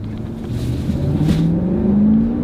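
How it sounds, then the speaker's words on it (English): A large car engine revs up and accelerates, its pitch rising steadily over a couple of seconds, loud and close. "That's got a big engine, so let's see how it takes off."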